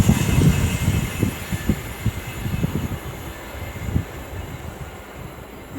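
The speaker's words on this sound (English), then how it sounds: "Mystery Pendolino." A Pendolino train on the West Coast Main Line at Marston Green rumbling past nearby, a rhythmic clatter of wheels over rail joints with steady background rushing that slowly fades as it goes by.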